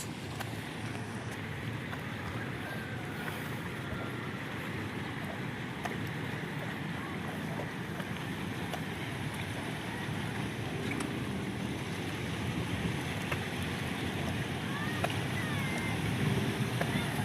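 Rushing floodwater of the swollen Marikina river, swept by Habagat monsoon rains, roars as a steady, broadband wash with a constant turbulent hiss, wind noise mixed in, continuous and unbroken for the full length.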